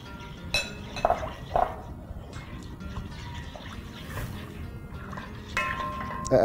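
A metal spoon stirring gelatin into water in a cup, clinking against the sides in a few bright taps and scrapes over a quiet background.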